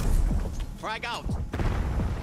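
A frag grenade goes off in Call of Duty Black Ops 6 during a Hardpoint match, low booming blasts amid gunfire, with a voice calling out briefly in the middle.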